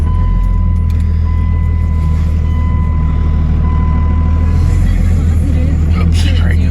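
Blue and white farm truck backing up a long way on a feeding run after freezing rain, a steady low engine drone with a faint tonal reversing beep running through most of it, voices talking over the top.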